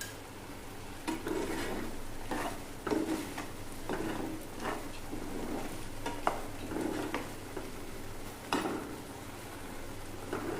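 A pan of wet cashew nuts and clams cooking as a Malvani-style vegetable dish, with a steady low sizzle broken by repeated stirring scrapes and soft utensil clinks, heard alone without talk.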